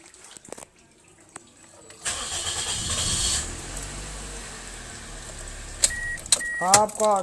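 After a new starter relay is fitted, a car engine cranks briefly, catches and settles into a running idle, following some quiet clicks, with a voice breaking in near the end.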